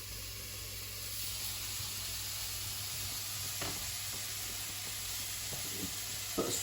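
Ratatouille vegetables sizzling and frying in a pan before tomato goes in, a steady quiet hiss broken by a few short clinks and scrapes.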